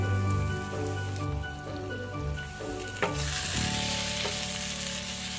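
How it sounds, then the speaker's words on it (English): Thick tomato paste sizzles and fries as it is added to a shahi paneer gravy, with a steady, moderately loud hiss under a low background hum that swells noticeably about halfway through, with no talking. "So today we are using this tomato paste and we are adding into this gravy."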